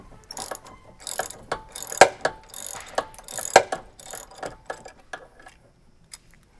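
A wrench or ratchet working a 17 mm nut loose on a BMW sway bar end link, with a run of sharp metallic clicks in uneven bursts, close up, then fading to a few isolated taps.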